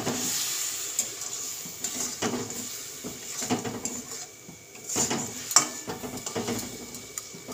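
Prawns fry in a mustard and poppy seed masala in a pan, a soft close sizzle broken by irregular scrapes and clinks of a spoon against the metal, with no voices.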